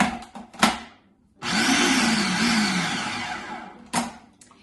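A few knocks and clatters come first, then a food processor whirs in one strong sustained burst as it chops garlic and basil for pesto, its pitch sagging as it works, before a final clunk.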